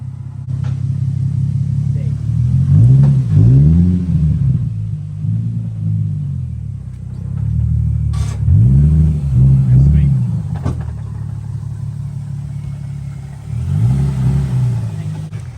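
A 2008 Nissan 350Z HR with a Megan Racing exhaust revs in three deep, rising bursts and then drops back to idle each time. The exhaust is loud and close, with short pauses between the revs.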